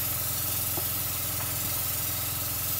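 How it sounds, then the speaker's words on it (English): A Belletto Studio airbrush sprays makeup across a face in a steady, continuous close hiss of fine mist over a low motor hum, unbroken for the whole stretch. "Put this on level 2 and go ahead and spray my entire face."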